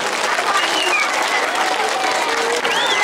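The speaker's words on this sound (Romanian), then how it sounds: "hai să-l aplaudăm, să-l încurajăm un pic" Children in a classroom clap together to encourage a classmate, a dense, continuous burst of applause with some voices mixed in.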